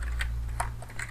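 Typing on a computer keyboard in Kali Linux, a few quick close key taps in irregular succession over a low steady hum, with no talk.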